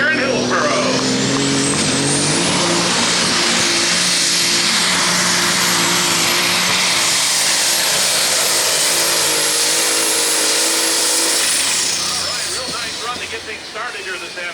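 A 6,300 lb light super stock pulling tractor in Hillsboro, Wisconsin, makes a test pass with a loud, sustained high-pitched engine whine and roar that holds steady for about twelve seconds, then fades away.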